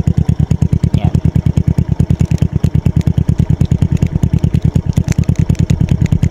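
A Suzuki Smash 115 motorcycle with a Power Pipe exhaust idles about a meter from the tailpipe, its steady rapid putter loud and close with an even, fast pulse throughout.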